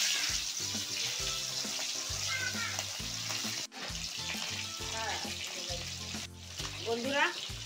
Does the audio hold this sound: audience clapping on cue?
no